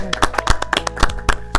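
Sparse clapping from a small studio audience welcoming guest Lola, trans actress, on a talk show, several separate sharp claps spread unevenly across a short stretch with no talking.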